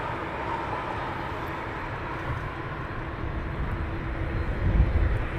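A United airliner taxiing past at Heathrow Airport gives a steady, moderately distant jet rumble with broadband engine roar that swells slightly toward the end, with no talking.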